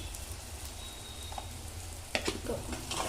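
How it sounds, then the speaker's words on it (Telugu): Egg curry with chicken masala and coriander powder frying in a pan while being stirred, a steady close sizzle with a few spoon scrapes and taps. "ఇప్పుడు ఒకసారి కలుపుతున్నాము. చూడండి, ఇలా మొత్తం ఫ్రై అవ్వాలి."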